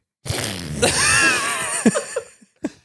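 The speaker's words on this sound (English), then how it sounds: "they would like the fart noise to be banned" A loud, close fart noise sound effect blares, one long wet, buzzing blast followed by a few short sputtering pops.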